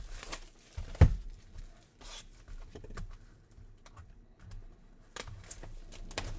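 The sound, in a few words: cutting open 2021 Bowman Draft baseball card boxes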